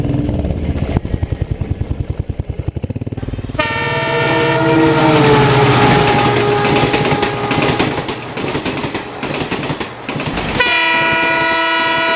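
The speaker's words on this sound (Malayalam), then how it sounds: "മുംബൈ നഗരത്തിന്റെ ജീവനാഡിയാണ് സബർബൻ റെയിൽവേ." A Mumbai suburban railway train rumbles past close by with rhythmic wheel clatter, then its horn blasts loudly and holds for several seconds, followed by a second horn blast near the end, with no voices.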